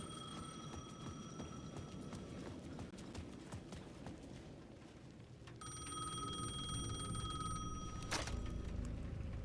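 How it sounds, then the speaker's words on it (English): A payphone at the edge of a plaza in the video game Alan Wake 2 rings with a bright, metallic bell, heard in bursts over a rhythmic clopping background, fairly faint and distant. "The payphone at the edge of the plaza was ringing again."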